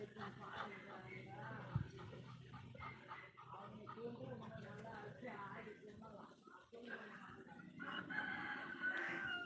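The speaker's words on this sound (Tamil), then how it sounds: "யாரு கோழி அது சண்டை போடுதா?" Chickens crowing and clucking nearby, a rooster's crow rising over steady overlapping voices of people talking throughout.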